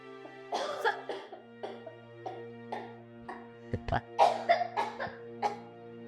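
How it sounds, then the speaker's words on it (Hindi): A woman coughs repeatedly in a series of short, harsh bursts that come close to the listener, with a sustained musical tone humming underneath. "माँ को खांसी उठ रही है"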